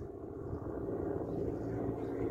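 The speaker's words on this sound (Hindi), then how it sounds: "व्यूअर्स हेलीकॉप्टर जा रहा है जी," A helicopter passes overhead at a distance, giving a faint, low, continuous rumbling drone throughout.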